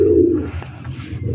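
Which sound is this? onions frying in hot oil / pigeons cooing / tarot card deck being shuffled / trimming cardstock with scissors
pigeons cooing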